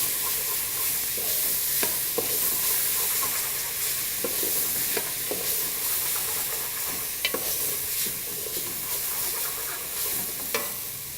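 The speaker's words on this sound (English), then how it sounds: "you're frying the vegetables off in the olive oil for, I'd say, 1 to 2 minutes." Vegetables frying in olive oil in a pan while being stirred, a steady broad sizzle broken by frequent scraping and clacking stir strokes, close and fairly loud, with no voices.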